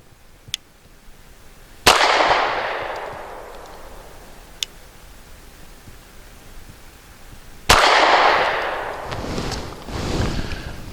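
Two loud gunshots from a Cosaint Arms COS11 pistol fired at targets on a range, several seconds apart, each with a ringing outdoor echo, plus a few light clicks in between.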